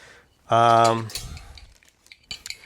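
A metal cooking grate on a Cobb Premier charcoal barbecue is lifted and shifted, giving one loud, ringing metallic scrape followed by softer clinks and light rattles nearby.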